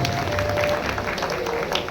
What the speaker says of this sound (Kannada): ದಯಮಾಡಿ ಒಂದು ದೊಡ್ಡ ಚಪ್ಪಾಳೆ ಹೊಡಬೇಕು ಅಂತೇಳಿ ಕೇಳ್ಕೊಳ್ತೀವಿ